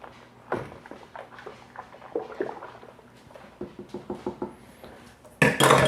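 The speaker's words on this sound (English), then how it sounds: "Now we're just going to give that a little bit of a stir." Home brew beer is stirred in a fermenting bucket, giving irregular soft knocks and liquid sloshing close by, ending with a louder, rushing burst.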